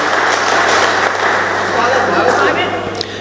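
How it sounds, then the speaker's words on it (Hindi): Audience applause at a Hindi poetry recitation by Suresh Albela, a steady dense wash of clapping filling the clip, loud and close. "आपको अगर आप सुनना चाहते हो तो मुझे एक बार तालियां बजा के बता दो"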